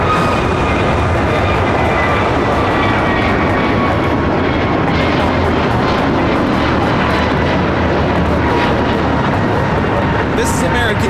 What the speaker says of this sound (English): This is American Airlines 1245 taking off to Chicago on the A321neo.